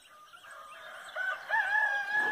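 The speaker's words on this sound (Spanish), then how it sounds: "Es muy bonito escuchar a los gallos cantar" A rooster crows in the distance on a mountain at dawn, a drawn-out rising call, with other faint bird calls around it in an otherwise quiet setting.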